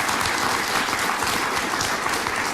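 Steady, dense applause from an audience at a comedy show, a full crowd clapping continuously and loudly for the whole stretch without any talking.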